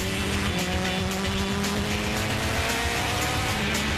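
An Acura LMP prototype race car at a Sebring test drives on track, a loud, steady engine drone with rising tonal harmonics, continuous and close throughout, no talk.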